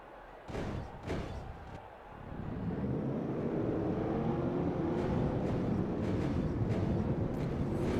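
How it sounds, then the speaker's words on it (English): NASCAR stock car engines fire up together on the starting grid at New Hampshire Motor Speedway, a few sharp bursts giving way to a dense, steady, loud roar that holds to the end. "Drivers, start your engines."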